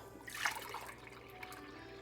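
Water pouring into an Instant Pot for soup, a brief splashing rush that swells near the start and then trails off into a faint steady trickle.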